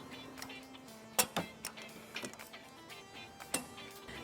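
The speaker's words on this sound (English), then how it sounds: "Now we're going to torque down the bumper beam bolts using a 16mm socket." Ratchet or torque wrench on a 16mm socket tightening bumper beam bolts during a trailer hitch install on a 2010 Ford Taurus. A few sharp, isolated clicks over a low steady hum, fairly faint and close.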